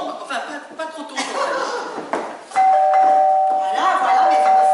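A doorbell chimes with a sustained ringing tone, partway through, while people talk and chuckle close by.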